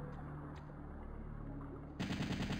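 Gunfire in the video game Resident Evil 3: Nemesis, a low rumbling background followed by a sudden loud burst of rapid automatic shots in the final second.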